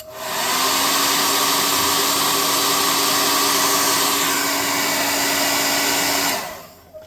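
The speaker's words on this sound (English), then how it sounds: "I'm going to air dry this one more time." Hair dryer blowing on wet paint on a tabletop scrap tower for tabletop role-playing games, a loud, steady whooshing hum that runs for about six seconds and then cuts off, close up with no talk.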